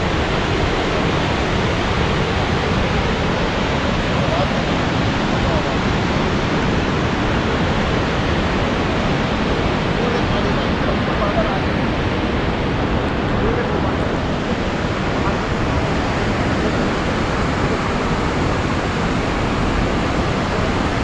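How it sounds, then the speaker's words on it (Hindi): Fast-flowing mountain river in Uttarakhand, a loud steady roar of rushing water close by, broadband and unbroken throughout. "थोड़ी सी आवाज़ सुनाने के लिए इस पहाड़ी नदी की"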